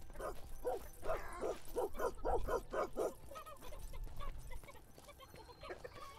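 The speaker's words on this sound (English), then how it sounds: "You all leave that dog alone." A dog in the video game 1428: Shadows over Silesia barks in a quick, evenly spaced run of yelps and barks, then trails off into softer whimpers over game ambience.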